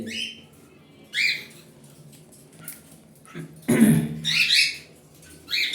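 Caged male pet birds and lovebirds chirping and squawking close by in loud, shrill bursts, with short quiet gaps between calls.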